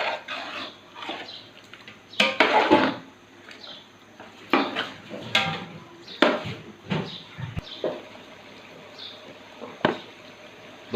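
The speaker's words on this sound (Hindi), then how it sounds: "चिकन हमने इसमें 4 केजी डाल दिया, तो अच्छी तरह से हिलाएंगे अभी, ताकि जो मसाला है वो आपके साथ मिक्स हो जाए सारा" Metal spoon scraping and clanking inside a karahi pot while stirring 4 kg of chicken with masala, irregular sharp knocks and scrapes with quiet sizzling between, close and fairly loud.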